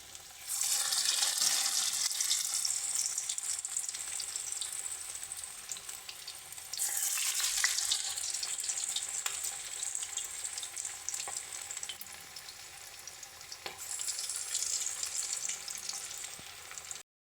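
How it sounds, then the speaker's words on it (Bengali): Lentil fritters hiss and crackle in hot oil, a steady close sizzle that swells again as more batter pieces are dropped in, with no voices. "দেখো এদিকে কিন্তু তেলও গরম হয়ে গেছে এবারে আমরা এক এক করে বড়াগুলো ছেড়ে দিচ্ছি"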